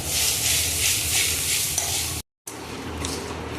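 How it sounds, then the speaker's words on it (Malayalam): Urad dal, chana dal, dried chillies and coconut roasting in a pan, a steady close sizzle with stirring and scraping that continues after a brief break. "പിന്നെ എടുത്തു വച്ചിരിക്കുന്ന അരമുറി തേങ്ങയും കൂടെ ചേർത്ത് നന്നായിട്ടൊന്ന് വറുത്തെടുക്കാം."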